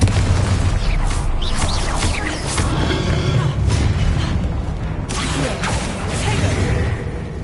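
Confringo blasting spell explosions in Hogwarts Legacy game, loud booming bursts with whooshing crackle layered over a continuous rumbling battle din, several blasts in succession.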